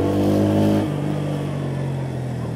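A new Bajaj Pulsar P150 motorcycle engine revs hard and loud, then drops to a lower steady drone as it pulls away during a road test.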